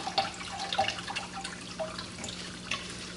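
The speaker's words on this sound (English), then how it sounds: "I'm just going to squeeze this sponge and rinse it in the tank water that I just removed" A filter sponge is squeezed and rinsed in removed betta aquarium water, giving soft dripping, trickling splashes with small irregular plops, close and quiet, no voices.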